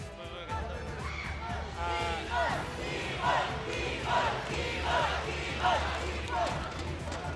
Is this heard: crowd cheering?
yes